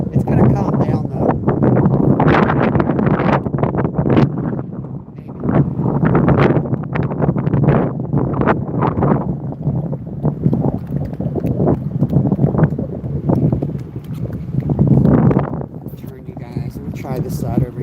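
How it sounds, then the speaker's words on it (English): Strong wind buffets the microphone outdoors on open water, a loud continuous roar with gusting surges throughout, while someone talks over it. "So much wind that the thing's just freaking sailing across the..."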